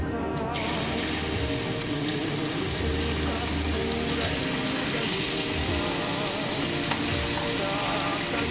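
Pieces of pork fry in a pan, a continuous loud sizzle and crackle running throughout with no break.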